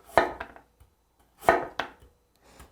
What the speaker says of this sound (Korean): 배추 속에 들어가는 무는 결 반대로 써는 것이 아니라 결대로 썰어야지 되거든요